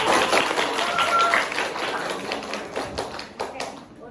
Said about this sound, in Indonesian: Saya mohon untuk beri tepuk tangan sekali lagi yang meriah.